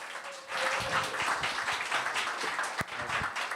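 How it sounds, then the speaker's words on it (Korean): Steady applause from a church congregation welcomes a guest pastor to the front, with dense clapping sustained throughout and a sharp louder clap standing out near the end. "큰 환영의 박수로 모시겠습니다"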